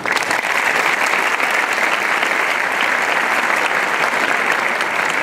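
A graduation ceremony audience claps loudly and continuously, a thick, even wash of hands close by from start to finish with no voices on top.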